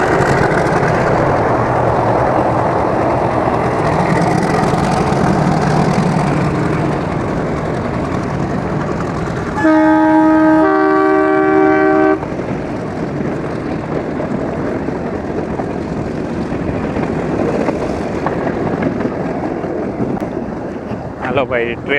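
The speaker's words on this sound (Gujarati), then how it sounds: "આ છે ને હજી જૂનું ડીઝલ એન્જિન જ આમાં ચાલે છે" An old diesel-engine meter-gauge train passes with a low engine drone and gusty wind on the microphone, a brief horn blast sounding midway, while people talk over it.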